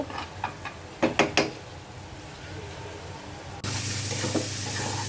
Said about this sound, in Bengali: যেখানে ডাঁটা আলু দিয়ে আমি ছোট চিংড়ি দিয়ে একটু ভাজা ভাজা করব